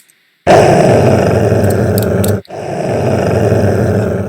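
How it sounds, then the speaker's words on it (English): An animal growls angrily in two loud, close, sustained bursts, with a brief break between them, after a moment of silence. "begins growling, more angry than before"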